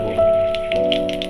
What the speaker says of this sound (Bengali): এই তেলে আমি দেবো মশলা, দেবো আমি গোটা জিরে ফোড়ন অল্প